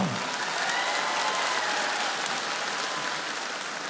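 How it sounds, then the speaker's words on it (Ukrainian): Comedy show audience breaks into steady, loud applause that fills the room for the whole stretch, dense and even, with no clear voices on top. "Бачу оплески, Владзьо!"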